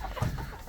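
Chickens cluck with a rooster among the backyard flock, including a bird with a funny little comb; one short, fairly loud cluck stands out against a steady background over a brief moment.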